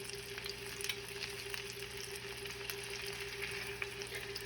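Meat frying in butter in a pan gives a soft, continuous sizzle with faint crackles, heard close but quiet over a low steady hum.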